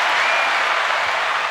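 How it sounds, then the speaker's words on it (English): Loud, dense hand clapping, continuous and close, with no voices over it. "I'll give you the clap for that one"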